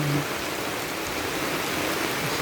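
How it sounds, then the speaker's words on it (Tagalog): Heavy rain pouring down in a steady, dense hiss of broadband noise, loud and close, with no pauses over the short stretch. "Lakas ng ulan."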